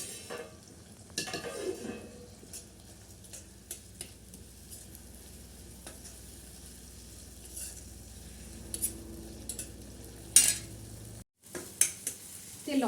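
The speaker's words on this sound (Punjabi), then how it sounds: "ਲੋ ਜੀ ਫਟਾਫਟ ਲੱਗ ਜੇਗਾ ਸਾਡਾ ਤੜਕਾ" A tadka tempering in hot oil fries in a pan on a rural stove. Low, faint sizzling runs under occasional clinks and scrapes of a spoon against the pot, with a short sharp burst near the end.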